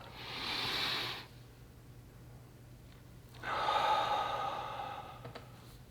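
A slow breathing exercise: one long breath, a quiet pause, then a longer, louder airy exhale, close to the microphone.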